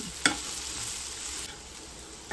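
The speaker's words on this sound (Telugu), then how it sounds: "క్యారెట్ బీన్స్ అనేవి చక్కగా ఫ్రై అయ్యాయి" Carrot and bean fry hissing in a pan while being stirred, opening with a sharp spatula knock, then an even sizzle that softens slightly before a final tap.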